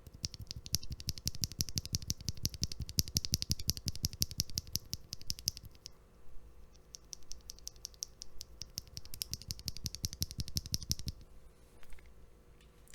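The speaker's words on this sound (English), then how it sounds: "here it is with GHV4 and a desk keys film" Fast, dense clacking from a mechanical keyboard fitted with Ashkeebs linear switches lubed with GHV4 and fitted with Deskeys films. Two long bursts of close, crisp keystrokes are split by a brief quieter pause, with a few scattered taps trailing off at the end.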